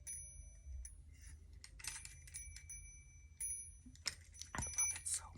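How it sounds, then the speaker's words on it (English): A Christmas angel chime ornament with turning angels rings softly, giving faint, high, bell-like tinkles scattered over a few seconds in an otherwise quiet room. "when it gets going, the angels turn around and it just gives the softest little chime"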